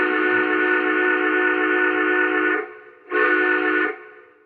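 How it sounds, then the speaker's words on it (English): Whistle of a Big Boy 4024 steam locomotive model train, one long steady chime-like blast followed by a short second toot, loud and close with nothing else around it. "Let's hear the whistle on the"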